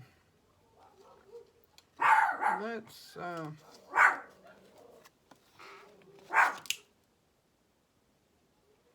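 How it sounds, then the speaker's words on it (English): A dog barking outside, a few short barks heard from a distance indoors, mixed with a woman's speech and some soft rustling sounds. "There's a dog outside barking"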